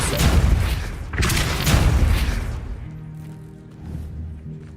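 A Depulso force spell cast in the Hogwarts Legacy video game lands as two loud, booming blasts in quick succession, each with a rumbling tail, before fading into a quieter stretch with a low hum.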